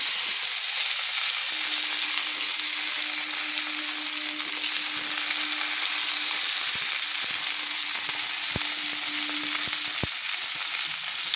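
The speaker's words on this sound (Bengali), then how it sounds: "ফুলকপিগুলোকে আমি একটু হালকা হালকা লাল লাল করে ভেজে নেবো" Cauliflower florets sizzle steadily in a little oil, a loud continuous broadband fry close to the pan with a faint low hum and a few sharp clicks near the end.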